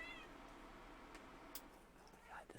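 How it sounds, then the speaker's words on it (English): A cat meows in the background, faint and intermittent, with a few soft calls over steady room noise and a low hum. "I'm never going to get this cat to stop meowing"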